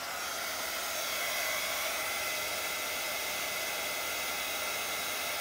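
A heat tool blows steadily to set distress ink on paper, giving a continuous, even hiss of air at moderate volume that runs the whole time without a break.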